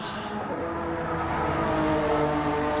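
Race cars in a racing video game stream roar continuously with loud, sustained engine drone and shifting revs, staying dense and close throughout with no talk.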